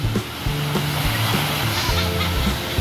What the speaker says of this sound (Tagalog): Maalon oh. Medyo maalon.